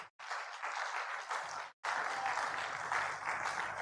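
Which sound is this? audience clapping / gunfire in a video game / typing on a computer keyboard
audience clapping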